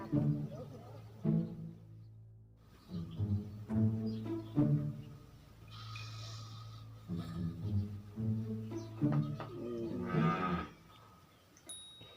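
A cow moos several times, long low calls close by, with people talking in between and around them.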